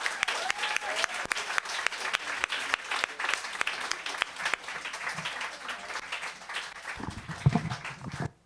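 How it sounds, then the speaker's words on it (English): Audience applause at a literary fellows' reading event, sustained dense clapping from a crowd for about eight seconds, steady and fairly close, tapering off at the end. "Let's have another round of applause for our wonderful fellows."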